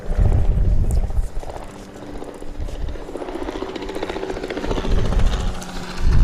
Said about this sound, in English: I honestly don't know how that helicopter's staying in the air.